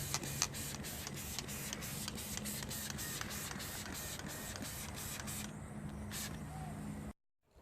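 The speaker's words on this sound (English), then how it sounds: "I'm going to spray it with G101, and I'm going to pressure washer it" Pressure washer spraying a degreaser-treated car seat while cleaning up a coffee spill, a loud continuous hissing rush with rhythmic pulsing, cutting off abruptly near the end.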